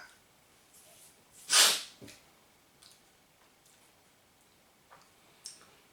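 A single sharp sneeze, loud and close, followed by faint breaths and small clicks in an otherwise quiet room.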